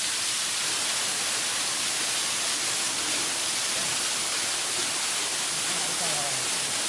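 A small waterfall on the Sonaichhori forest trail in Feni rushes in a dense, continuous roar that fills the scene, with voices faintly under it.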